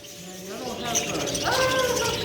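Small parakeets chirp and squeak close by in a busy, excited chatter inside an aviary at an aquarium and zoo, with human voices mixed in underneath.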